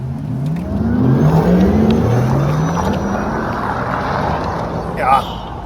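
Heard from inside a Porsche Taycan electric car with the window lowered, launch acceleration brings a rising electric-motor whine that sweeps steadily upward over constant wind rush, moderately loud and close.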